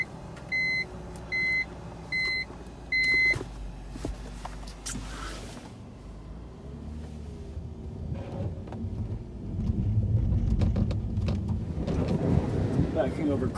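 A black BMW E46 with M-Tech 2 wheels backs over a pile of snow in cold weather. Four short electronic beeps sound first, then a low engine rumble and crunching rise and grow louder toward the end.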